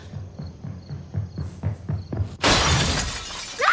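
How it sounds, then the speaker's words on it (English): A man smashing out a window in a horror drama scene: a run of rapid thudding footsteps leads into a loud, bright burst of shattering glass that rings on with scattering shards. "When I first saw him break out the window"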